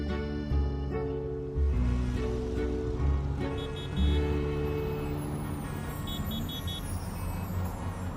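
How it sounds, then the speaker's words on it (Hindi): A roadway traffic jam with cars and trucks idling while several horns toot in short bursts and long blasts, some near and loud, others farther off, over a steady traffic rumble. "पता नहीं ये ट्रैफिक जैम कब तक रहेगा।"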